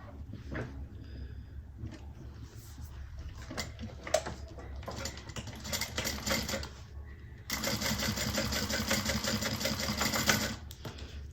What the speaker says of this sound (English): we're going to top stitch on each side of these 4 connectors